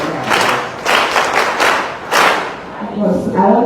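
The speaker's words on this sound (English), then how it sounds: "Can you give a round of applause?" A senior high school audience in Ghana bursts into applause during a talk, loud swelling waves of clapping mixed with crowd noise and thumps, with a voice coming through near the end.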